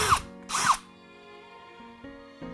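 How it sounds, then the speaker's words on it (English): Power drill boring a hole while building a DIY magnetic and foam miniature carry case, two short loud whirring bursts followed by a quieter fading motor hum and faint handling clicks. "we are going to drill our first hole"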